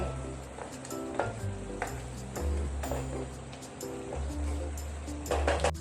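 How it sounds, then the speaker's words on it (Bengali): Soybean and potato curry sizzles gently in a pan while a spoon stirs it, with scattered metallic clinks and scrapes against the pan, a low hum underneath, fairly quiet and close. "এরকম বারে বারে করে আমরা নেড়ে নেব।"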